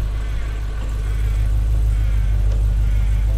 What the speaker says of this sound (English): Car's too loud